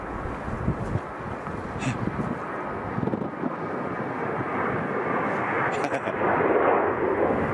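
Airliners on triple parallel approaches into Chicago O'Hare airport make a steady, broad jet roar heard from a distance, mixed with wind buffeting the microphone and swelling slightly toward the end.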